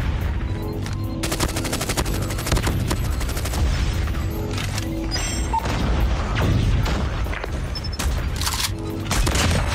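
Shotgun blasts and other gunfire from the mobile game Call of Duty Mobile come in dense, rapid volleys, loud and close, with booming impacts layered throughout.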